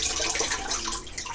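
Water splashing and sloshing in a basin mixed with vinegar, a continuous close, moderately loud wet rush with no talking.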